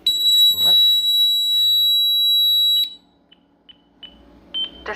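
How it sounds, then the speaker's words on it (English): A Honeywell security alarm panel sounds a steady high electronic tone for nearly three seconds, followed by several short, quieter beeps spaced across the rest of the clip. The panel is close and loud, and there is no talking. "Alarm, dining room, left, window."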